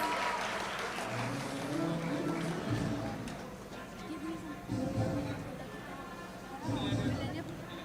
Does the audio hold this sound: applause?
yes